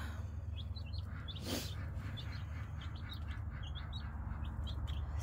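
Baby chicks in an outdoor pen give a steady run of small high peeps, many short chirps scattered across a few seconds above a constant low background hum.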